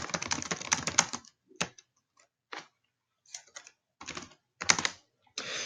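Computer keyboard keys clack in quick irregular bursts, a dense flurry of taps at first, then scattered short clusters separated by silent pauses, close and crisp with no talking.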